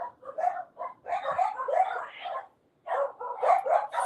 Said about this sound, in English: sorry for all the dog noises. They're going berserk